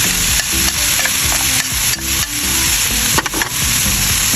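Chopsuey is stirred in a pan with pepper, garlic and seasonings, a loud, constant sizzle broken by repeated scraping strokes of the stirring, with no voices.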